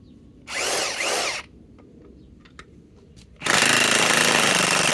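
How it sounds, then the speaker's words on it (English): A DeWalt DCF961 high-torque impact wrench drives a lag bolt in two loud bursts, a short hammering run followed by a pause with faint knocks, then a longer sustained rattling burst close by. "Dewalt XR DCF961 high torque"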